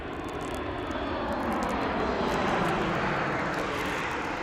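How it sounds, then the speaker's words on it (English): An Alaska Airlines airliner comes in to land at Las Vegas Harry Reid International Airport, its engines a loud, continuous broadband roar that holds steady and swells slightly midway. "Alaskan Airlines coming in"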